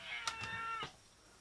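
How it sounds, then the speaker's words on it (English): A domestic cat meows a few times in quick succession, close and clear, with no talking over it. "here comes the cat, just a moment."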